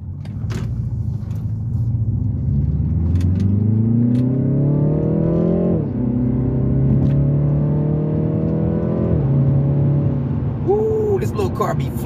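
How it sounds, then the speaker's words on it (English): A small car accelerates hard with its engine rising in pitch, shifting and climbing again, a steady close rumble running throughout, while a person talks over the engine. "this little car be flying."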